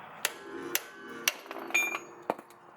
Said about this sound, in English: I'm just going to hit it with a 3-pound hammer